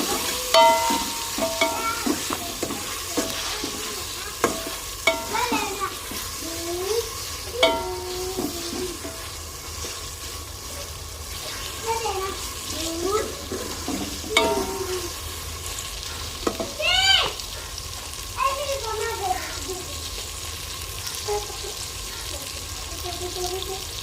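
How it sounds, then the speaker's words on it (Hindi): Chicken meat frying in a pan while being stirred, with a continuous sizzle under repeated scraping and clattering stirring strokes, some louder clanks, and faint background sounds. "इसमें गोश्त ऐड करती हूँ, फ्राई थोड़ा सा करते हैं।"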